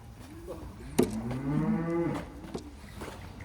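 Farm cattle being moved back into a pen let out one long, drawn-out moo near the start, fairly close, with soft outdoor background noise and no talking.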